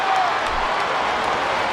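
Arena crowd noise in the WWE SmackDown vs Raw 2008 video game forms a steady wash of cheering and applause, loud and unbroken across the short clip.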